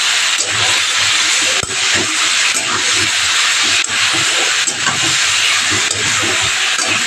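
Raw paneer frying in a pan with spiced potatoes gives a continuous, loud sizzling hiss that runs evenly throughout.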